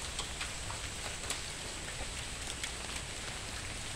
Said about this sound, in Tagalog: Oh, umuulan talaga dito sa amin